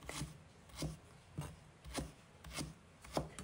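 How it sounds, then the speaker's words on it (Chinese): Garlic and ginger are chopped into small pieces on a board, with about six evenly spaced, crisp knife strikes. The chopping is close and fairly quiet, with no talking. "摘1把大蒜，切成小块，1块生姜也切成同样大小的小丁"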